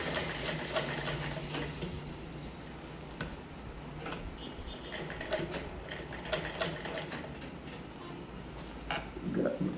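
A sewing machine stitches lace onto a pillow, running in short uneven bursts with ticking mechanical clatter and pauses, close and moderately loud.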